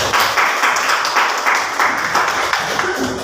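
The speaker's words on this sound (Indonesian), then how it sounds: "Silakan tepuk tangan untuk kita semua" Group of training participants clapping together at a youth counselling workshop, a steady broad wash of applause lasting a few seconds, moderately loud and fairly close, with no voices over it.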